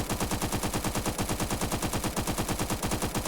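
Stoner 96 light machine gun firing in the video game Phantom Forces, one long continuous full-auto burst of rapid, evenly paced shots, loud and close with no pauses.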